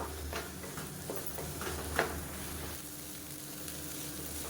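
A radish and egg stir-fry crackles in a pan while being mixed, with soft sizzling under repeated light ticks and scrapes of a spatula and one sharper knock.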